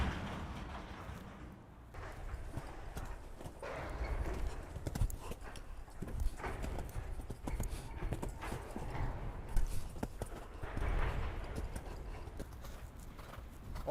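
A horse's hooves thud across an arena during show jumping practice over a line of obstacles, a rhythmic clip-clop of repeated footfalls at moderate distance, fairly soft, with faint background noise and no talk.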